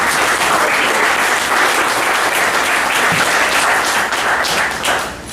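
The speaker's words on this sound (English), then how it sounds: "I think a round of applause initially" Steady audience applause fills an evening poetry reading at the Joie de Vivre Cafe, a dense, continuous wash of many hands clapping that holds level before tapering off near the end.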